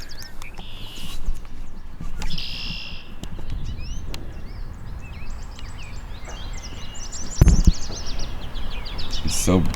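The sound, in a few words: birds singing outdoors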